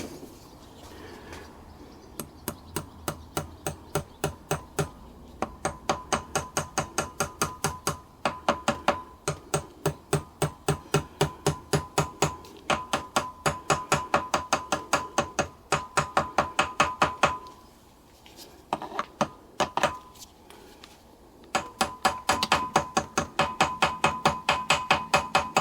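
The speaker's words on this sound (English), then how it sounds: "Now I'm just tapping on the rotor there just over the woodruff key" A hammer taps on the rotor of a Honda C90 engine, just over the woodruff key during reassembly: dozens of sharp, evenly spaced metallic knocks, close and distinct, with one short pause partway through.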